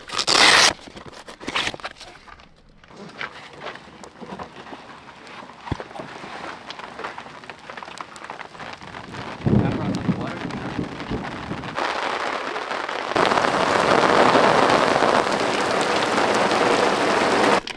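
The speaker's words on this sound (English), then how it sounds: "Whoa! It's raining!" Rain patters on surfaces around, a dense hiss of drops that swells heavier and louder in the second half, with brief rustling bumps near the start.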